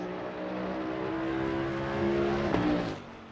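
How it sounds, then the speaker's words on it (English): A Bentley GT3 race car's V8 engine roars down the back straight at Circuit of the Americas, a loud sustained drone rising in pitch, peaking and then dropping as the car passes close by. "Just listen to that V8 roar, ladies and gentlemen, as it goes down the back straightaway."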